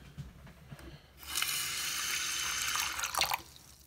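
Water gushes steadily from a repaired household faucet once the supply valve beneath the sink is turned back on, a loud continuous rush that runs for about two seconds before tapering with a few splashy bursts, after some faint handling clicks.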